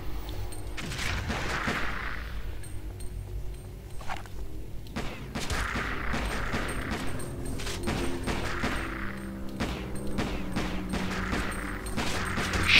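Gunfire in the video game Alien Shooter 2 comes in repeated rapid bursts with thumping impacts and a steady background hum, quieter sections between the volleys.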